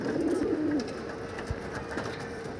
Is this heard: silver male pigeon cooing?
yes